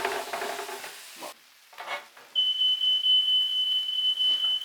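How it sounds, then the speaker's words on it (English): A smoke alarm starts up while a lamb smash burger fries, its steady high electronic tone sounding loud and continuous over the earlier sizzle and clatter of the pan. "there goes the fire alarm"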